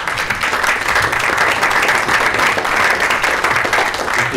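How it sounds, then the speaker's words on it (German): An audience applauds at the Bravö Hits 2018 event, a dense, steady round of clapping that holds evenly throughout at full volume. "Applaus bitte."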